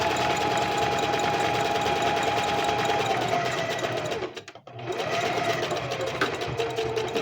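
A sewing machine runs steadily while stitching a piece of underwear fabric, with a loud continuous mechanical whir that breaks off for a brief pause near the end and then resumes.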